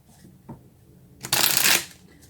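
Tarot cards are riffled in one quick, crisp shuffle lasting about half a second, preceded by a light tap of a card and quiet room tone.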